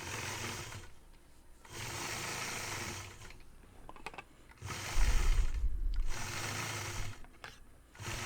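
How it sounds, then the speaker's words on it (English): A quilting sewing machine stitches in the ditch around a pumpkin block, running in bursts of rapid, steady needle whirring that stop and start several times, close and clear with no talk. "I'll start out by stitching in the ditch all the way around the outside of that pumpkin."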